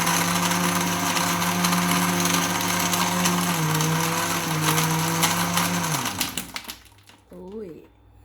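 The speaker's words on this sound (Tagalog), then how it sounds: "Pag dinamihan natin ng milk, takpan na natin tapos i-blend na natin." A blender whirs loudly and steadily, blending a fruit smoothie with milk, its motor pitch dipping slightly before it cuts off near the end, followed by a brief voice.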